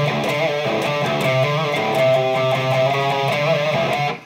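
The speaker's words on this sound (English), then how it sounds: "he's using a wah-wah pedal" A dense, distorted electric guitar riff, played through a wah-wah pedal, runs continuously and loudly with a sweeping tone. It plays alone without voices and cuts off at the end.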